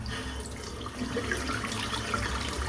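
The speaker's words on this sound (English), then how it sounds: "Just rinse the brush out" A shaving brush rinsed under running tap water, a steady broad splashing rush of water into a sink, continuous and close with no talking.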